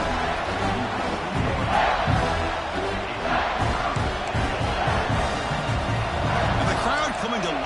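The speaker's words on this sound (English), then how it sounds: "And the crowd coming to life here, trying to help this defense down in the red zone." A football stadium crowd roars and swells as the home defense digs in near its own goal line in the red zone, a loud, steady wall of cheering with voices talking over it.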